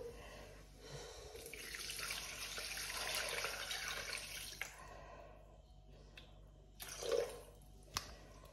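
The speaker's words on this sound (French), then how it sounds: "Là, je vais rajouter 400 grammes d'eau." Water poured into a Thermomix bowl over browned onions, a soft splashing stream for a few seconds that then stops, followed by faint clinks and quiet handling noises, with no talking.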